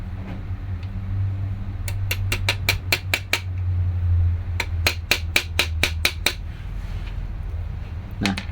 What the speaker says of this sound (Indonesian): dipukul pakai palu biar bisa masuk